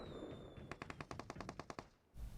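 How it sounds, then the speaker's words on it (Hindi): Automatic gunfire in the mobile battle-royale game PUBG Mobile: a rapid, evenly spaced burst of about a dozen loud shots, followed by a brief pause and a low thud. "सामने से कोई और गोली चला रहा है।"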